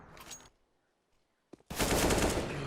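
Rifle fire in a professional Counter-Strike: Global Offensive esports match, landing a headshot: a short loud burst of shots, then near silence with a couple of faint clicks, then a longer, louder, sustained burst of automatic fire up close.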